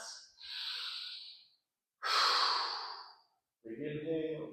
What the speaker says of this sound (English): Taking big breaths.